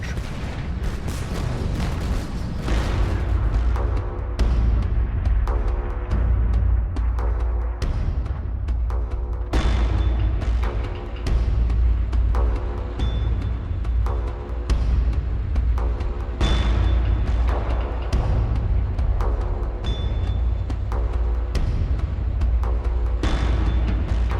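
Artillery barrage on the 1918 Western Front, a continuous rumble of heavy guns with repeated deep booms every second or two, loud and dense, some blasts close and others rolling in from farther off.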